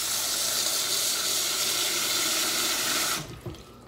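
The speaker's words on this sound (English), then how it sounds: "clean the rice again" Tap water runs loudly and continuously into a bowl of sticky rice being rinsed, a broad close splashing rush that cuts off abruptly near the end, followed by a few faint drips and clinks.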